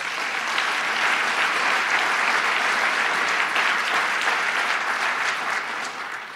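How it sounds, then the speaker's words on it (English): A crowd applauds steadily, a dense wash of clapping at even loudness throughout, fading slightly at the end. "Give him a round of applause."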